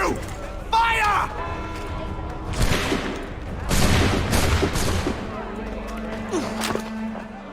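Musket volley in Assassin's Creed 3: several loud, booming gunshot blasts ring out in close succession, mixed with shouting voices and battle noise, with smaller scattered reports trailing after.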